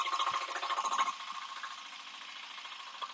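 Walk-behind tractor engine running in slow first reverse gear, a steady pulsing mechanical drone with a rhythmic throb that softens partway through, heard close with no speech.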